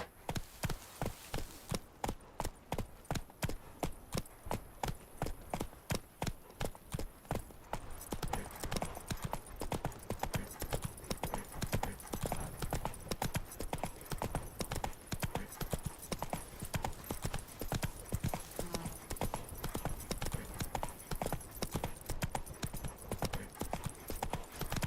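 Roach, the horse in The Witcher game, trots along a road with a steady, rapid clip-clop of hooves that continues unbroken for the whole stretch, close and prominent.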